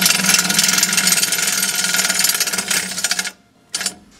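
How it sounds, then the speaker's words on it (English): A power drill bores an oil hole into an Allison 1000 transmission on a Duramax rebuild, giving a loud, continuous grinding whine for about three seconds that cuts off abruptly, then one short burst. "I'm just going to stick the drill bit down a little further so you guys can see"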